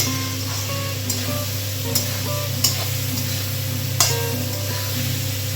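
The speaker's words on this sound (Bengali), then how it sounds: "আমি আবারও একটুখানি নাড়িয়ে নিচ্ছি ভেজিসগুলোকে" Vegetables for fried rice sizzle steadily in a hot pan while a spatula stirs them, making a few sharp scraping clicks over a constant frying hiss, with music playing faintly underneath.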